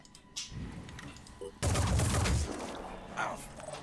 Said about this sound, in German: Wildcard, du kannst von hier schießen, kannst du auch treffen